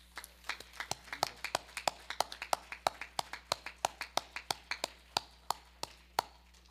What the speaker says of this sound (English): So can we just give them a round of applause?